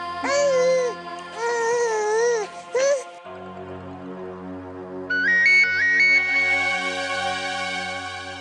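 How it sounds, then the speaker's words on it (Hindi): A melodic electronic phone ringtone plays a warbling tune, then shifts into a brighter repeating chime pattern, loud and close with no talking. "राज का फोन है।"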